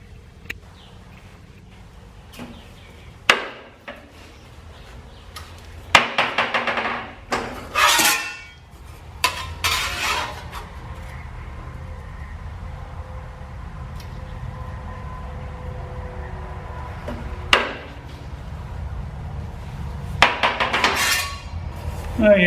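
A rusty metal bracket for a propane tank on a Weber Q grill stand being bent, with scattered sharp metallic clanks and knocks spread out over a quiet background, close by.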